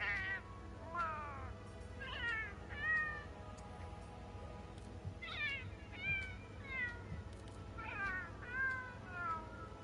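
Repeated cat meows in the Monster Hunter World video game, a string of short, clear mews in irregular bursts over a steady low hum, with no talking.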